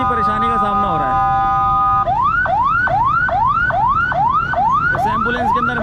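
An ambulance siren stuck in heavy traffic on a rain-damaged Karachi street starts with steady tones, then switches to a loud, repeating rising whoop, cycling about twice per second over road noise.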